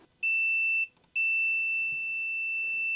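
A multimeter beeps on a continuity test during repair of a damaged Apple DuoDock: a clear steady electronic tone sounds once briefly, cuts out, then returns and holds, close and loud.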